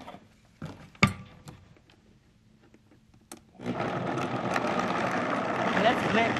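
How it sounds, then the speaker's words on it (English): A blender whirs to life after a few clicks and knocks, churning soaked almonds with water at a steady, loud, close roar that continues to the end. "let's blend it until it's really smooth"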